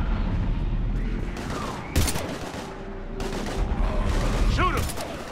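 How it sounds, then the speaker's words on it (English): Bursts of heavy gunfire in Mass Effect Legendary Edition, sharp shots and rattling volleys over a dense, rumbling battle soundscape, with voices shouting briefly in between. "We're taking heavy fire."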